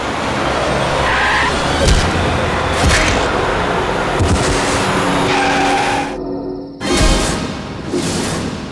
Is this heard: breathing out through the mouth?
no